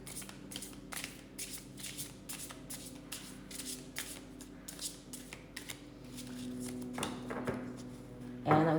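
A tarot deck being shuffled by hand, with a steady run of riffling, brushing card bursts at close range, growing busier near the end before a brief louder clatter.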